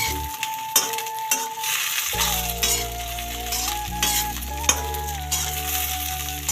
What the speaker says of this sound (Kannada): ಬೆಂಡೆಕಾಯಿ ಹಾಕ್ತಾಯಿದ್ದೀನಿ. ಚೆನ್ನಾಗಿ ಫ್ರೈ ಮಾಡ್ತೀನಿ.